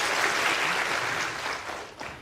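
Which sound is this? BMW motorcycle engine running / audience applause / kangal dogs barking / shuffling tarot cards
audience applause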